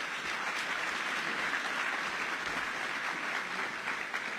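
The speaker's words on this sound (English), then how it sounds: "Please give them all a round of applause." A crowd at an ACRL event applauds honorees with steady, dense clapping that holds at an even, fairly loud level from start to finish, with no voices rising above it.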